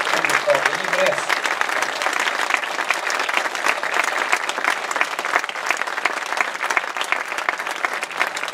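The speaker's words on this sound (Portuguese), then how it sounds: "Presidente Paulo Fernandes, a quem eu peço uma, uma salva de palmas." Audience applause at a Portuguese municipal ceremony honoring the chamber president, a dense, steady wash of many hands clapping for over eight seconds, with a brief voice at the start.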